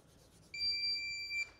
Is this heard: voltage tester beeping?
yes